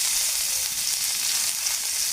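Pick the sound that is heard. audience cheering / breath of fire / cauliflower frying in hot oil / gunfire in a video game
cauliflower frying in hot oil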